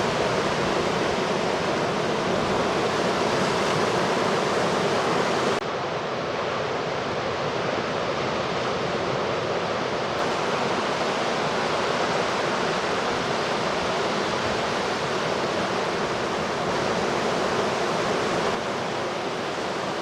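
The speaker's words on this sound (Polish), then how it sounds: "Wzmagający się wiatr spięcza coraz większe wały wodne nacierające na plażę." Continuous roar of Baltic Sea surf at a beach in Kołobrzeg, dense and unbroken, with wind-driven waves washing in steadily at close range and no voices.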